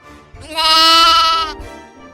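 A cartoon sheep gives one loud, sustained, wavering bleat lasting about a second, close and clear, with faint background sound before and after.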